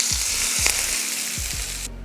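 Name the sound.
hot oil tempering poured into chutney, sizzling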